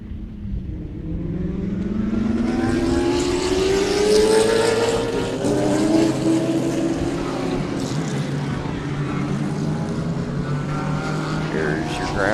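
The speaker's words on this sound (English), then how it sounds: "when it comes to loud cars, these are some loud race cars too" Loud race cars passing on the track at Sebring during a winter vacation event, engines rising in a long building roar as the field sweeps by, with overlapping exhaust notes sustained throughout.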